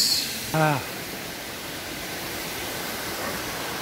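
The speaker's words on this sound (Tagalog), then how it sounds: "Ito na yung waterfalls." A waterfall in Bailen, Cavite rushes in a steady, broad roar that fills the scene, with a brief voice near the start and continuous water noise afterward.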